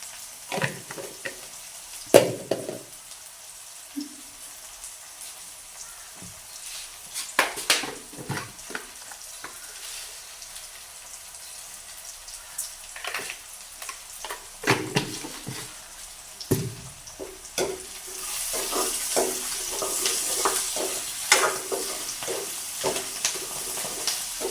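Fennel and fenugreek seeds fry in hot oil for a Jaffna-style squid curry, with a steady sizzle, scattered spoon clinks and scraping stirs, and the frying growing louder and fuller toward the end.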